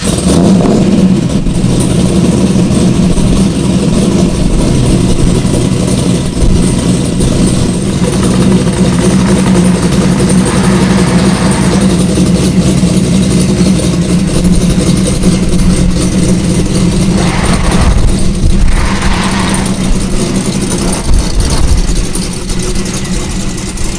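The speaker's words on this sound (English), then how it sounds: "A cold start." A Corvette Z06 engine fires up from cold and holds a loud, rumbling, throaty idle, with a couple of brief revs swelling near the end.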